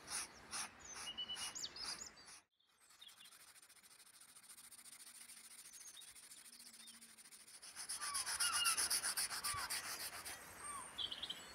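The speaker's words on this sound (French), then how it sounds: "de frotter la lame comme ceci" A lawn mower blade is rubbed by hand to sharpen it outdoors, making a steady, close scraping rasp with a brief pause. Birds chirp in the background, growing more noticeable toward the end.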